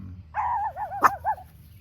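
A dog gives a drawn-out, wavering whine that rises into a few yelping barks, close by and fairly loud, with a sharp yip in the middle.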